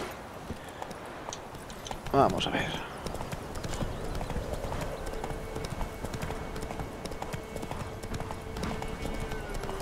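Horse hooves clip-clop in The Witcher 3 video game, a steady, continuous rhythm of trotting steps from start to finish, with someone talking over them and a brief louder burst early on.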